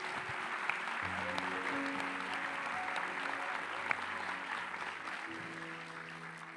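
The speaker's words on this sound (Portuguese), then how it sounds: "Vamos aplaudir a Jesus." Congregation applause during a church service, fairly quiet clapping spread across the room, with sustained keyboard-like music chords playing underneath.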